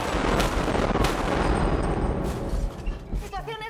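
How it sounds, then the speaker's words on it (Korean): Gunfire in a first-person zombie film: a police officer's gun fires several sharp, loud bursts over a noisy background, and a voice is heard near the end. "그리고 울려 퍼지는 총소리."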